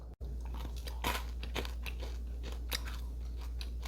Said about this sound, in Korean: 입안에서 톡톡 터지는 바삭바삭한 팝핀 초코볼